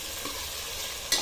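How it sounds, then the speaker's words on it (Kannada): Chopped onions and tomatoes sizzle steadily in a hot pan of tempering oil for masala tomato bath, a constant close frying hiss with a brief clatter of stirring near the end. "ಈರುಳ್ಳಿ ಸ್ವಲ್ಪ ಬ್ರೌನಿಶ್ ಆಗೋವರೆಗೂ ಚೆನ್ನಾಗಿ ಹುರ್ಕೋತೀನಿ"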